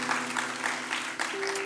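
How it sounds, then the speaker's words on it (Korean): Congregation applause at a Korean church worship service, a steady wash of clapping lasting under two seconds, with a sustained organ or keyboard tone running beneath it. "우리를 전도자로 불러주신 하나님께 우리 영광의 박수 올려드리겠습니다."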